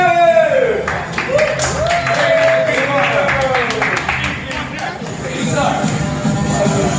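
A crowd claps and cheers in a sustained burst, with voices calling out over the applause throughout.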